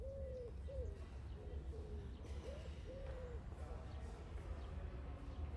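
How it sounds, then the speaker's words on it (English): Birds call in New York City on a calm, sunny early morning, a string of short, clear repeated coos or calls over steady low city hum, fairly close and moderately loud. "Birds sing as citizens go about their daily lives"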